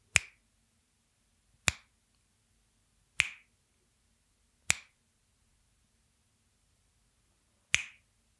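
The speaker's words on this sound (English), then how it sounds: "So I snap my fingers" Five sharp finger snaps, crisp and close, are evenly spaced about one and a half seconds apart with near silence between them.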